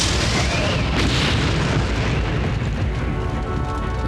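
A massive explosion roars on the Piper Alpha offshore oil and gas platform during a fire disaster, a loud sustained rumbling blast that rolls on for several seconds.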